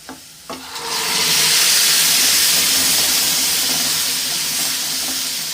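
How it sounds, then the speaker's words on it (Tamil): Cooked lentils are poured into a pan of browned onions for watermelon kootu. A couple of soft clinks come first, then a loud sizzle and steamy hiss that builds quickly and stays steady. "இப்போ வந்து நம்ம தூக்கி ஊற்றுறோம் பருப்பை"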